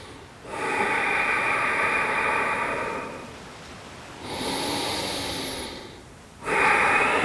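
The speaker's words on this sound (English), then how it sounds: "Keep breathing." Steady audible breathing during a vinyasa flow yoga stretch, with long drawn inhales and exhales in a few slow, even waves, close and fairly loud against a quiet room.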